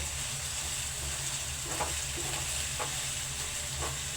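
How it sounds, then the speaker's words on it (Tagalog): Ampalaya (bitter gourd) with egg stirred in a frying pan: steady close sizzling with a few scraping strokes of the utensil against the pan, no talking. "Halo-halo natin ng konti"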